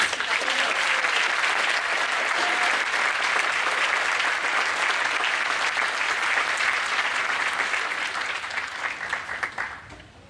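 A large audience at a university college of public health pre-commencement celebration applauds this year's inductees, steady dense clapping holding for about ten seconds before tapering off at the end.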